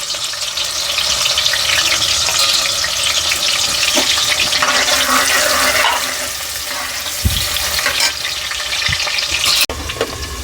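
Onions frying loudly in hot oil in a pan, a dense continuous sizzle close up with occasional stirring knocks and scrapes, no voices.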